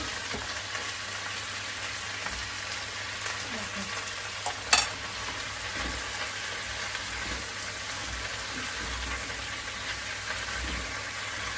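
Potatoes frying with onions in a pan, with a steady loud sizzle throughout and a few scraping stirs, including one sharp clank of a utensil near the middle; no one speaks.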